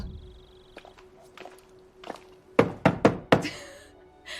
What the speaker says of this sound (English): There is a woman in the street hitting my window with a 15-foot pole